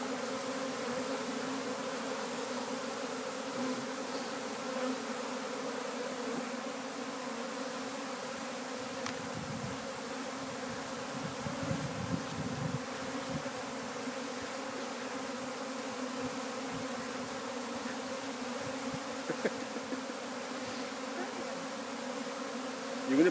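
A honeybee swarm marching into a new hive makes a dense, continuous close buzzing drone, with individual bees flying past now and then.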